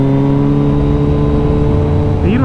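A motorcycle engine holds a steady, loud drone while the rider keeps the throttle up through a canyon turn, with a rising pitch shift near the end as the revs change.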